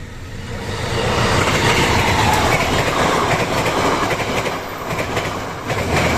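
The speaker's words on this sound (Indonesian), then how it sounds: "Kereta lewat." A new vintage-style passenger train rolls past close by, a loud steady roar of wheels with rhythmic clickety-clack on the rails that swells and holds for several seconds, no voices.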